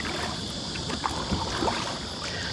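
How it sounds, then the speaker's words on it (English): Kayak paddle strokes against a river current in shallow water, soft splashes and dips every half second or so over steady wind and water noise, fairly faint and without talk. "I'm sort of paddling against the current"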